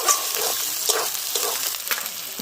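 Duck meat going into a pan of sizzling spice paste made with onion paste and dry chilli, a steady hiss with a few scraping stirs close by, loud and without talk.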